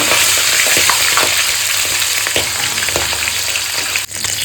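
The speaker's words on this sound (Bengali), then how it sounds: "একই তেলে চলো মাছের মাথাগুলো লালচে লালচে করে ভেজে নিই" Fish heads fry in hot oil in a kadai, giving a loud, dense sizzle with scattered crackles and spatters that run steadily throughout, up close and without voices.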